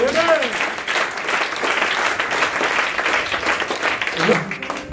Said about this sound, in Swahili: Supigie Yesu makofi.